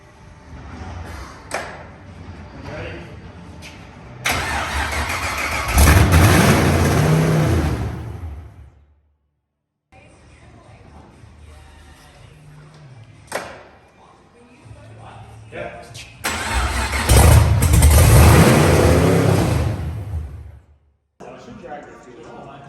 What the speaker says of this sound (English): you hear it fire up, and then it wants to lean out and just dies straight away